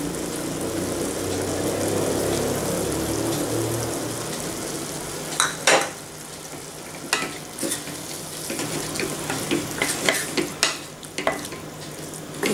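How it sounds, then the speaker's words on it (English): A spoon stirs a methi paneer mixture of fenugreek leaves and crushed paneer in a pan, with a steady soft sizzle and occasional scraping clinks against the metal. "Mix it well and leave this to cook for a minute."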